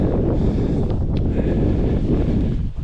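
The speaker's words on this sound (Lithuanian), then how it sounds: "Nes vėjas tikrai jaučiasi." Strong mountain wind on Snowdon batters a GoPro microphone, producing a loud, continuous, buffeting roar with no pauses.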